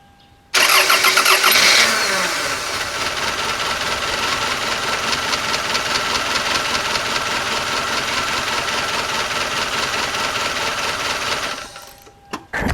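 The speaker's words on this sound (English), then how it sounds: "I'm going to turn on the ignition to check out the shaky engine." A 1997–2001 Toyota engine with worn, separating motor mounts cranks briefly and catches, then settles into a loud, steady idle with a rapid, slightly uneven pulsing. The sound stays close and continuous and cuts off near the end.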